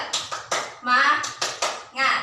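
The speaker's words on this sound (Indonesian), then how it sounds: "mari kita tepuk semangat dulu ya" Classroom spirit-clapping routine during a microteaching lesson: crisp, close rhythmic hand claps in short patterned bursts, interleaved with a chanted group voice between the claps.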